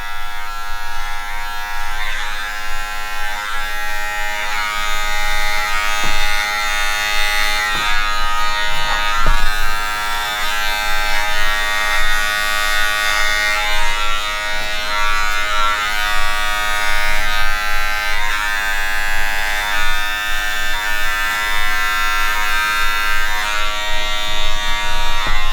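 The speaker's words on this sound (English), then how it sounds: "So You take your clipper, you want to shape it up a little bit" Electric hair clipper shaping up a beard, a steady close buzz running throughout with a few brief clicks and bumps as the blade moves across the hair.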